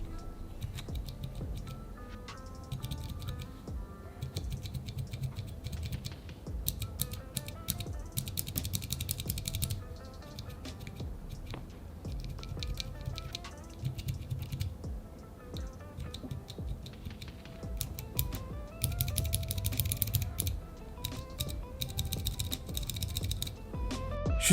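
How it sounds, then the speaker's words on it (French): Buttons and switches on a gaming keyboard are pressed one after another, making crisp clicks and clacks in irregular bursts and runs, close up and quiet. "je vous ai enregistré une petite séquence ASMR où je clique sur tous les boutons"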